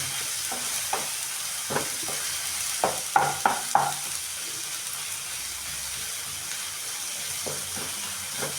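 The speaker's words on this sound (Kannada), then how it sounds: "ಇವಾಗ ಎಣ್ಣೆಯಲ್ಲಿ ಫ್ರೈ ಆಗಿದೆ." Legumes sizzle and crackle steadily in hot oil, with a few sharper scrapes of a spoon stirring them against the pan, loudest in a brief cluster midway.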